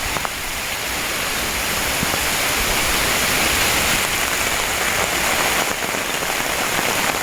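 Heavy rain pours steadily beside a tent near a swollen stream at Chaom, Kaeng Khoi, Saraburi, a dense, even hiss of drops drumming close by with no voices.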